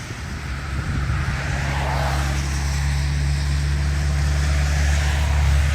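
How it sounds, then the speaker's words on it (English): A WestJet Boeing 737 airliner at a cold Toronto airport rumbles steadily in the distance, its engine roar building slowly and holding at an even, broad drone with no talk. "WestJet going to, no idea, 737."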